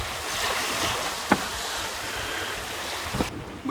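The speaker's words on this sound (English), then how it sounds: "We've been sailing for nearly 4 hours now" A sailing boat moving through waves at sea: steady wind and water rushing past the hull, with a couple of brief knocks and splashes and no talking.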